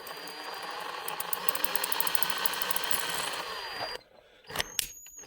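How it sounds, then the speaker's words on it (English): A small power drill whirs steadily for about four seconds while opening a laptop, then stops, followed by a couple of short mechanical clicks. "Check this out, a drill."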